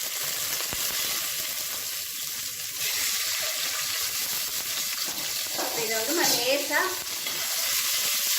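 Boiled eggs are stirred into hot spiced oil in a pan, giving a steady loud sizzle with scraping stirring strokes and a few splattering pops.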